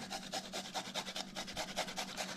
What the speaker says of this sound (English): I'll grate some ginger in here.